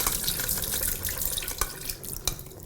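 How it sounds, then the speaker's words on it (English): Water from soaked garbanzo beans pours away into a kitchen sink, a steady splashing run with a few brief drips and spatters toward the end. "And so I'm gonna throw this water away,"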